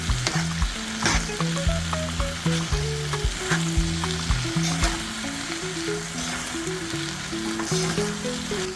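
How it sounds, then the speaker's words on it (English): Spaghetti stir fry sizzles loudly in a hot pan as tongs toss and mix it, with steady frying and repeated scraping and clinking strokes, while a melody plays underneath. "Change to tongs so that we can mix it uniformly"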